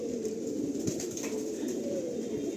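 Pigeons coo softly and continuously in a crowded loft of more than 700 birds, a low murmuring chorus with a few faint higher chirps and rustles.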